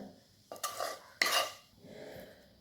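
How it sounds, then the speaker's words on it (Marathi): Hot tempering for a safflower leaf dish goes into a pan, heard as two sharp clanks and bursts of sizzling, then a quieter sizzle that fades out. "फोडणी घालूया आता"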